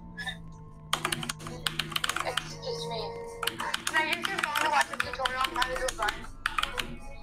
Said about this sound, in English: That keyboard is so annoying.